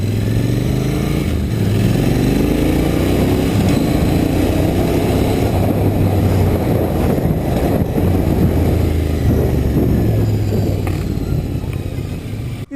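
Engine of a 2020 Royal Enfield Continental GT 650 motorcycle running steadily while riding, a loud continuous low drone with shifting pitch sweeps as revs rise and fall, carrying on without a break.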